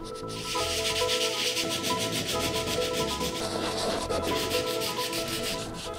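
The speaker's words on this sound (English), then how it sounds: "now we're going to come back and sand by hand with just some 80 grit" Close-up hand sanding of epoxy fairing on a sailboat with 80 grit sandpaper: a continuous rhythmic scratching of back-and-forth strokes, steady and fairly loud, with no talking.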